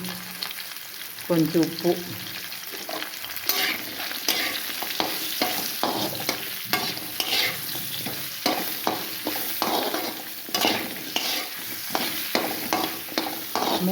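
Vegetable pieces for a tamarind stew fry in a hot pan with turmeric and salt, a steady sizzle broken by repeated scraping stirs, while someone speaks briefly near the start.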